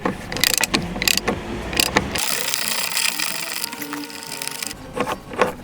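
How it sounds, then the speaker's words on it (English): A socket wrench with a 17 mm socket ratchets to remove the seatbelt pillar bracket inside a Skoda Fabia B pillar, giving rapid clicking bursts at the start and end with a steadier mechanical whir between them. "Remove the seatbelt pillar bracket using a 17mm socket and wrench."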